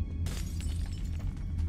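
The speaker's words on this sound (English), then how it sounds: "I keep breaking like all this glass and shit." Glass shatters in the video game Metro Last Light, a bright crash with scattered tinkling fragments over a low, steady game-sound hum.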